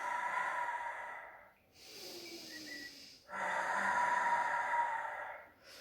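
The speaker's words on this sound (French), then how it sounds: "Inspire, expire." Slow, steady breaths in and out during a Pilates balance exercise, each long airy exhale and inhale close and soft, two full breath cycles with brief quiet gaps between them.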